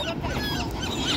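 Geese or similar fowl honking excitedly at close range while being fed veggie sticks, a brief burst of overlapping nasal calls and squawks with no voices.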